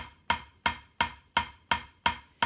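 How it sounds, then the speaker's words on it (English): Drumsticks bouncing in big legato strokes on a practice pad, seven evenly spaced open taps about a third of a second apart, each with a bright attack and a short decay, close and alone. "So legato strokes are the big strokes."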